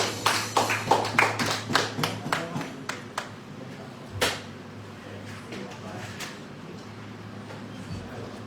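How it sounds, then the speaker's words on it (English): Congregation clapping in a church service: a run of rhythmic, fairly sharp claps that fades after a few seconds into scattered single claps over a quiet room, with faint voices. "Let us give a clap to our God."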